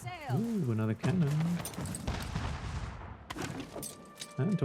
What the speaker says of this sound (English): Ooh, another cannon.